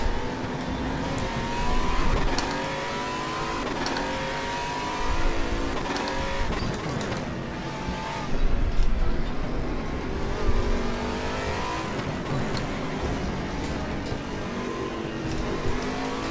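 Aquila CR1 Sports GT race car engine in the RaceRoom racing game on the RaceRoom Raceway, revving loudly and steadily through gear changes, with surges of acceleration and brief tire noise from traffic around it.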